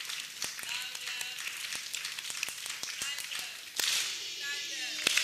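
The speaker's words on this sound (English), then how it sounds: "We will also give them all three types of claps." Audience at a children's summit closing ceremony clapping, with sharp scattered claps at first and a denser burst of applause near the end, mixed with voices.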